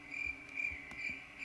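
Steady crickets chirping as a comic sound effect, a continuous high trill pulsing in short repeated bursts, faint and alone with no voices.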